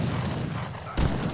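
A cannon booming in the Age of Empires 3 real-time strategy game, a steady roar of battle noise with one heavy shot thudding in near the end.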